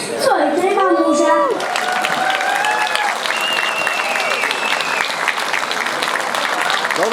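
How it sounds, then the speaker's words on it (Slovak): Audience at a folklore festival in Poruba pod Vihorlatom applauds loudly and steadily, with a dense clapping crowd, shouts and whistles mixed in, and a voice or singing briefly audible at the start. "Veľký potlesk pre Adriánka Bensuláka"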